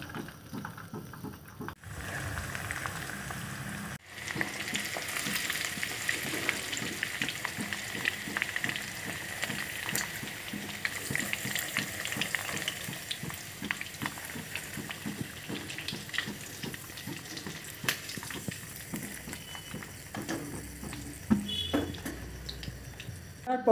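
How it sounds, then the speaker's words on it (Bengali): Chicken pakoras fry in oil in a kadai with a steady, dense crackle and bubbling hiss that carries on evenly throughout, close and moderately loud, with no talking. "এইভাবে একই পদ্ধতিতে সমস্ত পকোড়াগুলোকে ভেজে তুলে নেব।"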